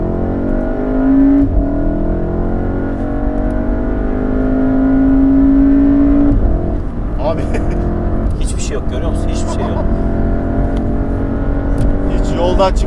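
A modified 367 HP VW Golf R in race mode drives hard, its engine holding a loud, steady, close drone with rising and falling pitch as it speeds through turns, with voices heard now and then over the engine.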